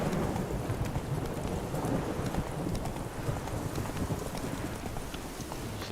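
Horse hooves clip-clop at a steady walking rhythm in The Witcher 3, a continuous close patter of hoofbeats over a soft outdoor wind bed, with no talking.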